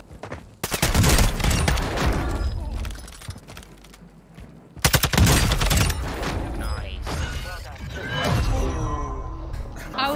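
A fire shotgun booms in a video game, with several heavy, loud blasts and crackling, burning tails. Game effects and a voice are heard in between.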